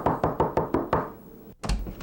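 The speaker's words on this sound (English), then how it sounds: "We knocked on the door." Knocking on a door: a steady run of six sharp raps, close and evenly spaced, then a pause before a louder thump and rumble.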